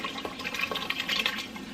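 Liquid splashes and sloshes in a pot while goulash cooks, a close, bubbly burst of wet noise with several quick splashy pulses across under two seconds.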